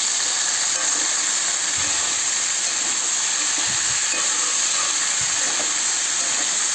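Salted food frying in a pan gives a steady, close sizzling hiss that runs throughout, with a few soft clicks and pops underneath.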